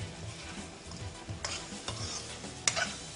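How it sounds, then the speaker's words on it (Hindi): Chicken for dum murg frying in a pan is stirred, a soft steady sizzle with intermittent scraping strokes and one sharper clink near the end, quiet and without talk. "साथ साथ चिकन को ना भूलें और चिकन को हिलाते रहें।"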